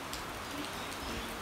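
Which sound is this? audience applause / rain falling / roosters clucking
rain falling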